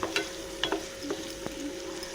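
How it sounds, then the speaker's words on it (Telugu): Onions fry in oil in a kadai, a soft sizzle punctuated by several light, evenly spaced stirring taps and scrapes. "కడాయి పెట్టేసుకొని ఆయిల్ వేసేసుకొని, ఆనియన్ వేగాక కాస్తంత చిటికెడు పసుపు వేసుకుని"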